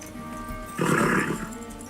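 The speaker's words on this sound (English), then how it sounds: "There's my horsey." A horse in the online game Animal Jam gives one short, breathy whinny or snort lasting about half a second, rising clearly over a quiet game background.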